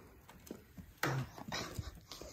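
Puppy whimpering and yipping nearby in a workshop, a few short whines and yelps spread over two seconds, fairly quiet with some light rustling.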